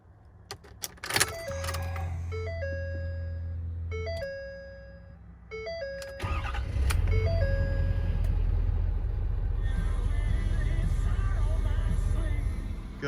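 A Ford 6.7 diesel truck sounds a series of electronic warning chimes. Midway, the engine cranks and catches into a loud, low, steady diesel idle that keeps rumbling to the end.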